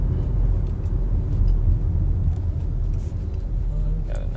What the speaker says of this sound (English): the limited with the turbo engine has some nice pickup actually